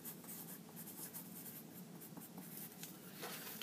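A pen draws curved lines on paper while sketching a street map, giving a close, continuous scratchy rasp that keeps going without pauses and with no voices.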